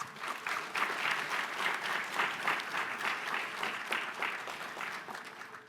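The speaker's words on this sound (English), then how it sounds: "let us please give him a round of applause" Guests at a launch event give the minister a round of applause, a full, even wash of clapping at moderate distance lasting throughout.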